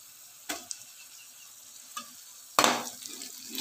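Green beans being stirred into a pan of cooked onion and tomato over medium heat, with sharp scraping stirs and a soft sizzle between them; no talking.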